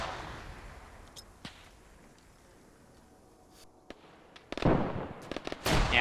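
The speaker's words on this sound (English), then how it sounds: "I'm gonna throw grenades." Grenade explosions in a World War I battle game, a few distant cracks and thuds early on, then a cluster of loud sharp blasts in quick succession near the end.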